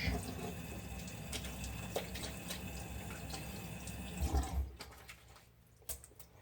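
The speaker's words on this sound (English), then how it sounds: "I'm just gonna really quickly wet my brush." A shaving brush from a budget shave kit is wetted under running water, a soft trickle and splash that thins out toward the end with a few drips.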